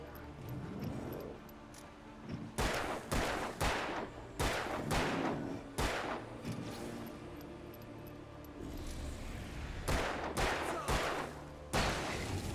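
Gunfire in the video game Alan Wake rings out in sharp clustered bursts of shots separated by short pauses, loud against a quieter ambient background.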